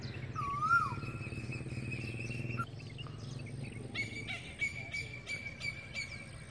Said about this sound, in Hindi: कोयल सुबह सुबह मेरे सामने आके बैठी हुई है।